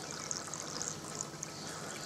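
Water flows steadily through foam-packed filter pots of a garden koi pond, forced up and down through each pot, making a continuous close, soft rushing trickle with no voices.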